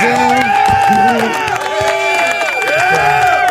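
A large crowd at a Fredericksburg music event cheers, whoops and claps loudly and continuously, with shouting voices layered over sustained applause.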